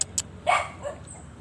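A dog gives a single short bark at moderate distance, preceded by a couple of faint clicks, against a quiet background.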